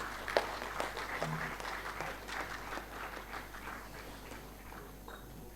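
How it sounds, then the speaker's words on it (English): Audience at the inaugural session of an MSME startup conclave gives a round of applause for the SIRC chairman, scattered hand claps spread across the room at moderate distance, holding steady for several seconds and thinning slightly toward the end. "huge round of applause"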